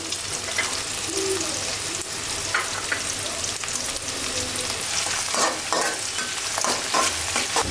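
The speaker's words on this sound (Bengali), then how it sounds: "পেঁয়াজ দিয়ে দিচ্ছি এখানে মশলাগুলো দিয়ে দিচ্ছি" Onions and spices fry in hot oil in a pan, a steady close sizzle with scraping stir strokes running throughout and no talk.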